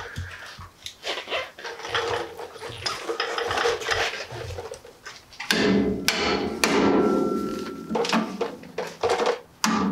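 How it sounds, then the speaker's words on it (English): Repeated loud metallic hammer strikes ring out in an irregular rhythm, close by, with clanking and scraping of metal parts between blows, as a suspension part on an early Ford Bronco is hammered through the frame. "I'm gonna hammer this through"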